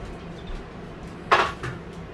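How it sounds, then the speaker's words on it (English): A pan clatters as it is shifted aside on a stovetop, one sharp metallic clank followed by a softer knock against a quiet kitchen background. "I'm going to move this pan because I don't need it anymore."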